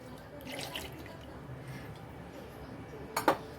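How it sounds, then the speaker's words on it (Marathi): Cold milk poured into a mixer jar with saffron already in it for thandai, a soft, steady liquid splash under low kitchen background, ending with a brief sharp clink of the jar. "मस्त थंड दूध घालायचं आहे आपल्याला"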